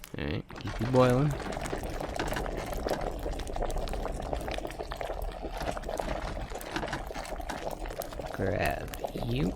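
Liquid bubbles steadily in an alchemy cauldron in Kingdom Come Deliverance, a continuous simmering burble, while a person speaks briefly over it near the start and end.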